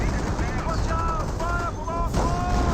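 Continuous crackling rifle and machine-gun fire from German Grenadiers in the World War II strategy game Company of Heroes, layered over a thick battle rumble with brief tonal voice-like calls rising above.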